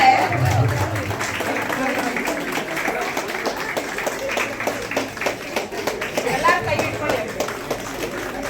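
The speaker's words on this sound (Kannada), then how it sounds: "ಚಪ್ಪಾಳೆ" An audience claps during a Kannada Rajyotsava ceremony at ESIC Peenya, giving a steady patter of scattered applause. Talk over a loudspeaker runs on top of the clapping.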